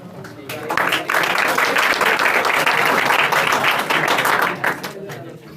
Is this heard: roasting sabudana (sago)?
no